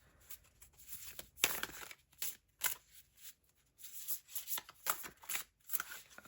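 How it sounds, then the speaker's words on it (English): Tarot cards being shuffled in repeated bursts of crisp riffling and rustling, close by, with short pauses between runs. "Okay, I'm shuffling"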